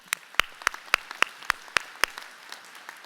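A small audience at a 2019 NSCC Cumberland Campus college convocation gives sparse applause, heard as a handful of sharp separate claps in a slow, even rhythm that fade away over about three seconds.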